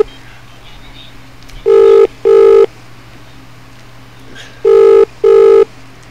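A telephone rings loudly for a call-in during a radio show, two crisp double-ring bursts separated by a few seconds of quiet, each buzzy ring clear and close.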